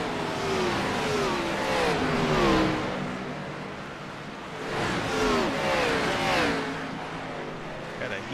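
Race cars in the Gen 6 Bud Shootout at Daytona, a pack of Chevrolets among them, sweep past in rising and falling engine roars, two waves of revving pulling by, with crowd noise and a voice underneath.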